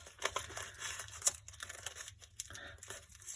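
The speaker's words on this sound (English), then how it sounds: "sheets of the newspaper to scrunch and roll" Two newspaper sheets being scrunched and rolled by hand into a ball for a lion head model, giving close, busy crinkling and tearing-like rustles with a few sharper crackles and no talk.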